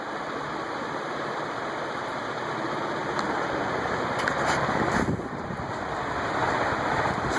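A c.1985 Envirofan Gold Line 160F-7 industrial ceiling fan runs on high speed, giving a steady, full rushing whoosh of moving air that stays constant and fairly loud throughout.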